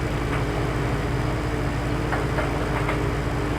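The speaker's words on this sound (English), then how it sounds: "That's a powerful tractor." A powerful tractor engine labouring uphill, a loud, steady low rumble and drone with faint clanks over it, sustained throughout and close by.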